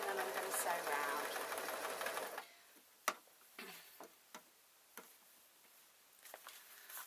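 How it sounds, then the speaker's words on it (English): A sewing machine stitches round a slipper bootie in a loud continuous run for about two seconds, then stops, followed by scattered light clicks and taps as the fabric is handled. "And then I'm going to sew round."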